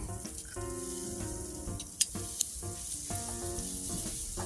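Crushed garlic sizzling in butter in a skillet, a steady close crackle with a couple of sharp pops, no talk.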